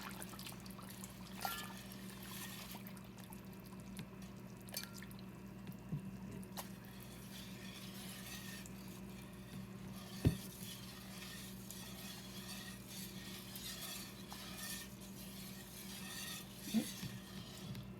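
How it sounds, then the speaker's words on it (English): A whisk stirs a peach peel jelly mixture with sugar dissolving in a pot, giving soft continuous swishing and scraping with a few sharper clinks against the pan, steady and close throughout. "I will use my whisk to make sure it all gets dissolved and stirred in well"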